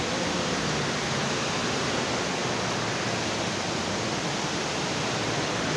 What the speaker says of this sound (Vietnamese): mình quay cảnh thác nước ha anh em